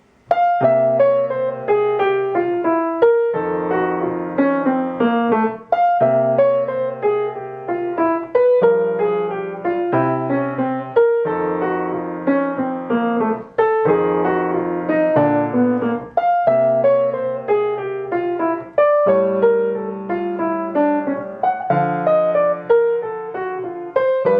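Solo jazz piano plays a steady sequence of chords with short runs descending onto each chord's third, repeating a pattern through a progression at a moderate tempo.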